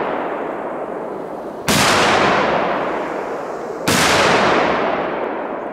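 Two loud, sharp explosive bangs from Cobra firecrackers go off a couple of seconds apart in a forest, each leaving a long, fading echo.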